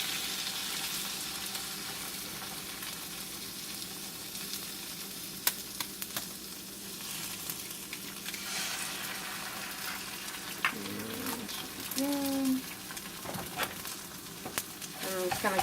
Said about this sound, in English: Alright, I'm going to add in my eggs now. I'm having 2 whole eggs in it.